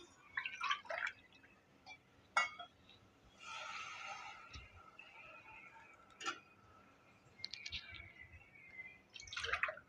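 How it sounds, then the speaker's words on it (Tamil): Water is poured into a pot of soaked basmati rice for white kuska: a brief splashing pour amid scattered faint drips and clinks, quiet and close. "இப்போ அந்த அளவுக்கு நம்ம தண்ணி சேர்த்துக்கிடுவோம்"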